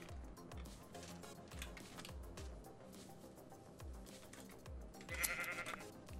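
Sheep bleating in the video game Minecraft, a short bleat rising near the end over steady game music with rhythmic low thumps, fairly quiet overall.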